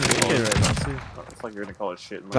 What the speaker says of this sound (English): Okay, the scar is not bad. I like it more with the suppressor.